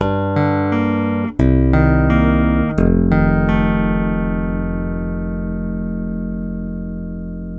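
Chapman Stick played through the Stickup pickup in position 4: plucked notes and chords ring with rich harmonics, a few sharp attacks, then one long chord slowly decaying alone.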